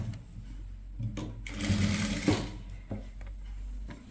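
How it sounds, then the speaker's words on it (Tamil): Sewing machine stitching along the edge of a kurti fabric in short bursts, with one longer run in the middle, close and fairly quiet with gaps between. "இந்த மாதிரி திருப்பிட்டு இந்த ஓரமாக ஒரு தையல் போடணும்"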